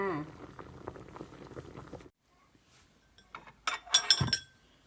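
Homegrown first-harvest potatoes boiling in a pot, a soft bubbling with faint clinks for two seconds, then a quiet pause before louder glassy clinks and knocks close by.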